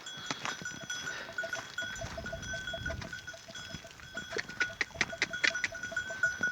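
Goats bleat in short calls amid a steady repeating chime and clicking, like small bells on moving animals, with no talking.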